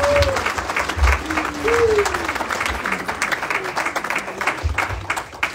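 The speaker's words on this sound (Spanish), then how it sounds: "Dele fuerte palmas a Dios, amado hermano." Applause fills a chaplain graduation ceremony in Reno, Nevada, with steady clapping from a crowd throughout, mixed with murmuring voices.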